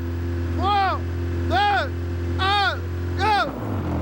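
A 160-horsepower Honda Civic SiR rally car at a rally event gives four rising-and-falling engine revs about a second apart over a steady low idle drone, fairly close and loud.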